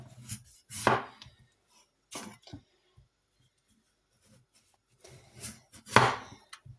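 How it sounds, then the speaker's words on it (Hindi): Peeled potatoes cut with a knife, with a few crisp close chopping strokes in two short clusters separated by quiet, no talking. "मैंने आलू पील ऑफ कर लिए हैं। अब इनको इस तरीके से काट लेंगे।"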